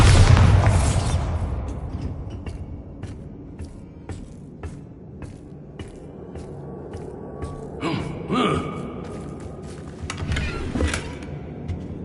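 A Bombarda blasting spell in Hogwarts Legacy sets off a loud opening boom and burst, then a busy stretch of game noise. Sharp clicks and pops continue, with further swelling impacts later on.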